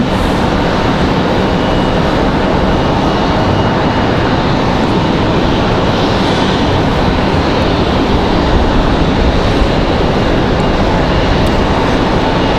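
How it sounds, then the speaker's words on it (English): A Boeing 787-9 Dreamliner heavy jet departs Raleigh-Durham airport in strong westerly wind, a loud, steady broadband engine roar filling the whole stretch without letup. "787-9 Dreamliner headed out"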